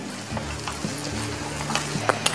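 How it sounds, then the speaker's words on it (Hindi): Chopped spring onion hits a pan of sautéed garlic for butter garlic chicken, crackling in a steady sizzle with a few sharp stirring clicks near the end. "अब हम मिला रहे हैं हाफ कप कटा हुआ स्प्रिंग ऑनियन इसे भी साथ में भूनेंगे"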